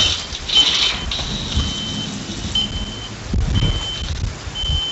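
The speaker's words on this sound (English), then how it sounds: "It's my phone telling me I need to check my blood sugar." Phone alarm reminding its owner to check blood sugar, a thin high repeating tone running intermittently through busy, rumbling game background noise, with no talking.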